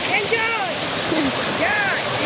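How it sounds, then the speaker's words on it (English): A waterfall gives a steady, full rushing roar that fills the scene, with high chirping calls, likely birds, rising over it now and then. "Nice waterfall."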